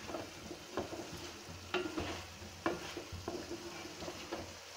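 Cauliflower fries in a pan while a utensil stirs it, scraping the pan in a few distinct strokes over a steady close sizzle.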